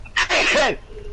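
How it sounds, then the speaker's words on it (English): A single sharp, loud sneeze bursts out close by, a brief intake followed by a broad explosive blast with a wavering, tonal tail that trails off into quiet room noise. "That was the funkiest sneeze I've ever freaking seen."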